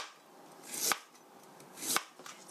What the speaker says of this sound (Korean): 당근도 채 썰어주세요